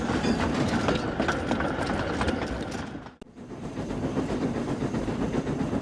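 A steam engine puffs away along the rails at steady speed, a continuous rolling rumble and rhythmic clatter of wheels and carriages, close and loud, briefly dipping before resuming.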